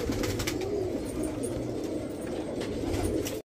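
Golden pigeons cooing in a pair, soft low repeated coos with a steady murmuring texture, close and fairly quiet, with no voices.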